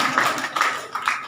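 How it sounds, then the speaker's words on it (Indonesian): Audience clapping at a Maulid religious gathering, a few loose, soft claps scattered over a brief moment with no voices. "Tepuk tangan"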